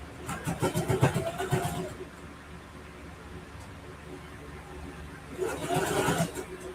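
A home sewing machine stitches a seam on a quilted ruffle backpack, its motor whirring in two short bursts separated by a quieter pause.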